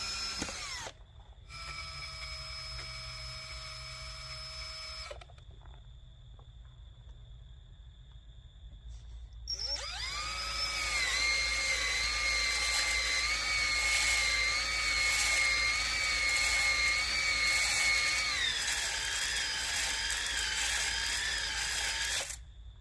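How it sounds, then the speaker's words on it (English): A drill drives a 320 grit Flex Hone through the oiled cylinders of a Chevrolet LT1 engine block, a steady whirring grind in two bursts, the second longer and louder, with a short pause between. "I'm going to be trying to break the glaze with this 320 grit Flex Hone and Walmart's cheapest 10W30 motor oil"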